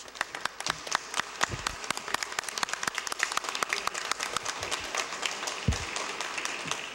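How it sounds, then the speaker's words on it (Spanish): Applause in a parliamentary chamber during a debate on presenting a ministerial cabinet: many hands clapping in a steady, distinct patter, moderately distant and fairly quiet, with a couple of low thumps. "Les pido un aplauso de desagravio."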